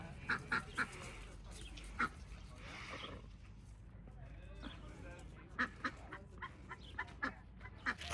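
Ducks quack and honk in short scattered bursts in Pioneertown, California, nearby and moderately loud, over a low background murmur.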